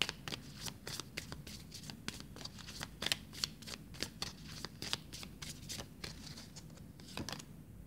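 A deck of oracle cards is shuffled by hand, with rapid, evenly spaced crisp riffles and flicks heard up close in a quiet room.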